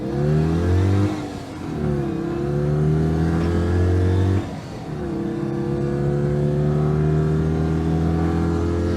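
A modified Citroen 2CV with a 720cc engine climbs a mountain road, its buzzy small engine revving up through the gears in rising whines with two brief dips at the shifts, loud and close from the cabin, no talk.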